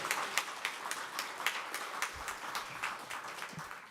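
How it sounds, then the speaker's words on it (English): An audience at a national symposium gives a round of applause, with scattered distinct claps ringing out over a thin background of clapping, moderately loud and fairly sparse. "give yourselves a round of applause."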